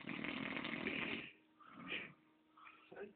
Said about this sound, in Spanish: qué asquerosas ronquidos